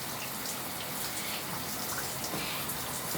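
Water runs steadily over curly hair during a wash rinse, a continuous broadband splashing hiss close by with no talking.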